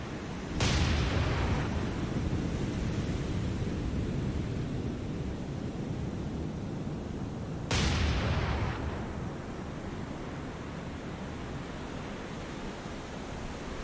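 Two heavy warship gun blasts from the naval combat game War on the Sea, set in Operation Watchtower, each a sharp booming report with a rumbling decay, several seconds apart over a constant low background roar.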